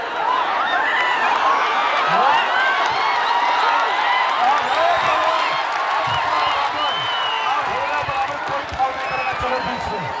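A crowd at a wrestling match between Basant Thapa of Nepal and Radhakrishna Pahalwan claps and cheers loudly and steadily throughout, while an announcer speaks over the noise.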